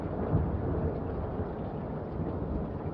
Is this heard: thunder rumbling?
yes